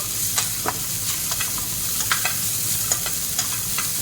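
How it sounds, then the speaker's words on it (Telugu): Raisins frying in a little oil in a pan give a steady soft sizzle with scattered light crackles and occasional stirring scrapes, close and even throughout, with no talking. "ఫస్ట్ మనం కిస్మిస్ని ఫ్రై చేసుకున్నాము"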